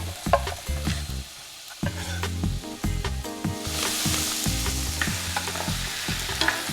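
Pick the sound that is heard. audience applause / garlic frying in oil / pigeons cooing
garlic frying in oil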